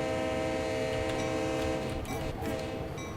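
Train engine from the game Train Sim World 2 at Cumberland Station, a steady loud rumble with tonal horn-like drones running throughout, brief bursts of higher noise near the end.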